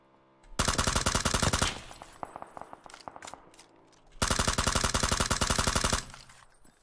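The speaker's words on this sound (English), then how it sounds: "shots everywhere" Rapid automatic gunfire in a battle royale video game match comes in two long, loud sustained bursts, separated by a stretch of scattered single shots and clatter.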